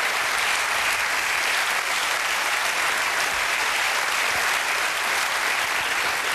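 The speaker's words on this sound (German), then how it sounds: "Siehst du, der Beifall kommt." Sustained studio audience applause at a German late-night talk show, a dense, steady wash of many hands clapping, loud and even throughout with no speech over it.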